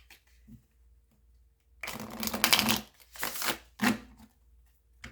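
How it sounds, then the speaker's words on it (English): A tarot card deck being shuffled by hand at close range, with bursts of riffling and flicking cards separated by brief quiet pauses. "Okay, one more shuffle."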